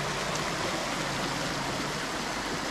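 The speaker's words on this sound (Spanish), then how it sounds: "El río va hasta allá." A river runs past a campsite, a steady broadband rush of flowing water that fills the whole stretch, continuous and fairly loud with no breaks.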